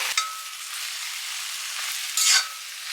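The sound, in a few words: tomato and spice masala sautéing in a pan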